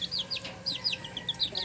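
Chickens in a small backyard coop with new talisayin bantam birds give a series of short, high clucks and chirps, fairly faint, over a low background hum.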